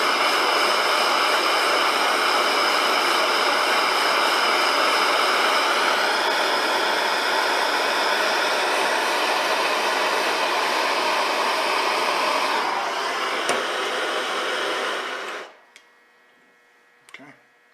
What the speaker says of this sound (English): we'll use a torch. Heat it up to a dull red.